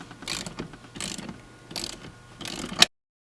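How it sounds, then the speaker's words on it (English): Socket ratchet turning out a seat bolt on a 1993 Jeep Cherokee XJ, heard as four close, clicking bursts with a sharper final click before it goes silent. "You can put the socket over it and just go to town."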